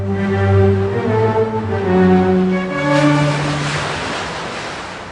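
Ocean waves at sea, a broad washing surge that swells and fades beneath sustained tonal music, moderately loud.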